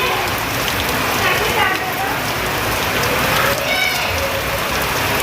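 Rain falling onto surfaces, heard as a dense, even hiss with scattered droplet patter, steady and close throughout.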